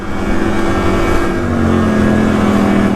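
A Top Quad Trailblazer ATV engine drones loud and close while being ridden, its pitch steady and then sliding slightly lower as it builds power, with no talking over it.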